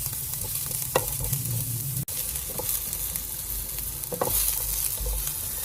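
Garlic and onion sautéing in hot oil in a wok for pinakbet, a constant close sizzle with occasional scraping stirs and a brief break, no voices.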